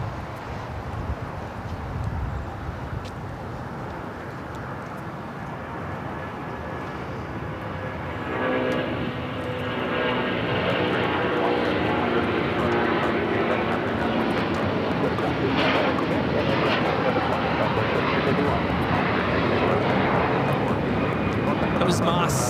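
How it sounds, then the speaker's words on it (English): An Airbus A330 converted cargo freighter takes off from runway 25 right at LAX, its jet engine roar building steadily and then holding as a loud, sustained rumble. "That was Moss 6811, the Airbus 330 converted freighter taking off to Guadalajara."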